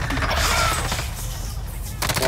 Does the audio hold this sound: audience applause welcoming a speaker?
no